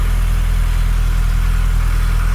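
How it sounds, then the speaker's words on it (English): Mini Cooper 1.3i SPI engine idling steadily on a cold day, a close, constant low mid-range hum with an even rhythmic pulse and no revving, heard alone without talk. "Here's the engine running."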